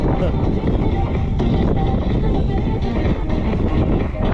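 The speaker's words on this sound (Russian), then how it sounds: "Сегодня ветрено так вечером." Strong evening wind buffeting the microphone while riding in Crimea, a loud continuous roar with gusty swells throughout, no clear talk.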